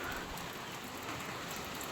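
Steady rain falls continuously in a dense, even hiss, with no voices over it and a faint sharp patter near the end.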